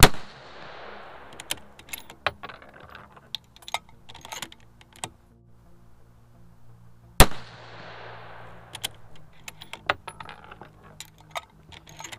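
Two sharp, loud rifle shots about seven seconds apart at a range while a Vector Optics HUGO 4-16x44 GT scope is being sighted in, each crack followed by a decaying echo and mixed with close clicks and handling sounds.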